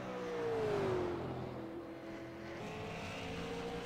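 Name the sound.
Super Late Model race car on track during qualifying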